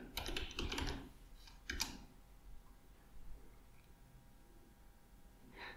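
Keys clatter on a computer keyboard in two quick bursts at the start and one short flurry near the two-second mark, followed by quiet room tone.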